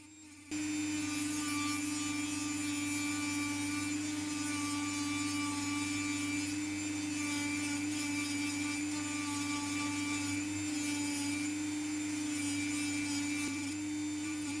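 A Dremel rotary tool whines steadily as it grinds and shapes a burl wood pendant, a close, constant high-pitched motor drone with a gritty sanding rasp that holds unbroken for the whole stretch.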